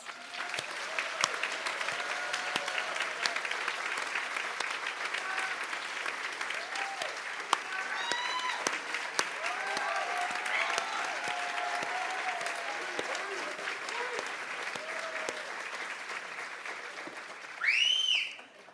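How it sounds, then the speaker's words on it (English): Graduating nursing students at a Class of 2024 pinning ceremony receive a long, steady round of clapping from the audience, with scattered whistles and cheers, swelling briefly louder just before it fades. "let's give them all a round of applause"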